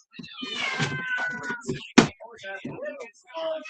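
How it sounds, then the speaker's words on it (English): An unhappy cat shut in a huge dog kennel meows loudly and repeatedly up close, with a sharp knock partway through. "My cat is in the huge dog kennel and not happy about it"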